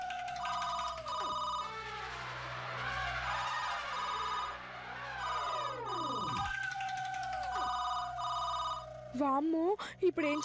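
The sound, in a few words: telephone ringing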